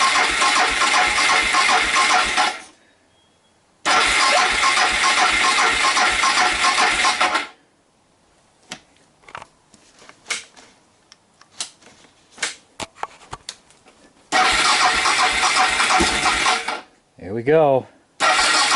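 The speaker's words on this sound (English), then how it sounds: "As you can see, that it just cranks faster and faster." A motorcycle engine cranks on a lithium battery in three separate bursts, each a rapid, loud, mechanical churning that speeds up, with quiet gaps and scattered clicks between them and a brief voice near the end.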